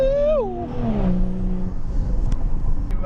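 A BMW M2 with the N55 engine in sport mode revving up and falling back: a rising whine that sweeps down into a deep, steady exhaust drone, close and loud, with a couple of sharp clicks.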